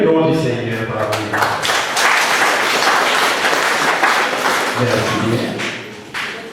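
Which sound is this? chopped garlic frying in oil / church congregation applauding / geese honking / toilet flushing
church congregation applauding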